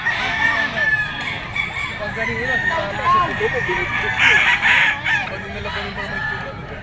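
Several fighting-cock roosters crow repeatedly at a pet market, overlapping calls and clucks over a busy, noisy background with people talking.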